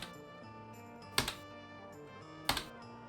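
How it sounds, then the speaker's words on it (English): Two crisp clicks of a computer keyboard key, spaced about a second apart, sounding close and clear over a faint steady background hum from a park-building game. "I'll push my keyboard button."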